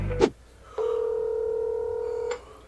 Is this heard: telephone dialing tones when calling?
yes